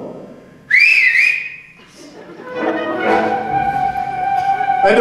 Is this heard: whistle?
yes